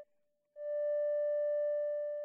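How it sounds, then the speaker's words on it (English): Synthesizer oscillator sine wave passes through a VCA: a pure steady tone swells in after a brief quiet dip and holds loud and clean, fading slightly toward the end. "Here we have a sine wave of the wired oscillator going into the VCA."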